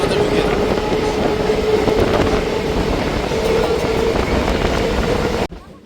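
A Sealdah–Krishnanagar local train rumbles loudly and steadily into Krishnanagar station with a faint sustained tone, cutting off abruptly near the end.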